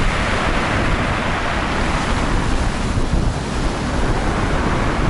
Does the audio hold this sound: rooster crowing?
no